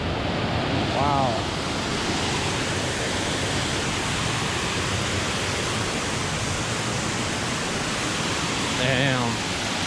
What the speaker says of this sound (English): Quite the waterfall trail, if you can hear me.